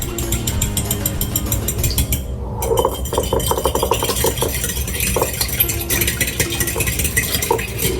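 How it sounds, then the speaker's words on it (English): Milk and egg batter for apple fritters gets whisked in a bowl, a fast, steady rhythmic clatter of the whisk against the sides, close and continuous. "we're just gonna do a quick whisk on that"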